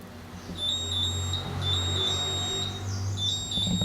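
A Brastemp 84-litre built-in electric oven's timer beeps in a repeated series of short, high electronic tones over a low background hum, with no voices.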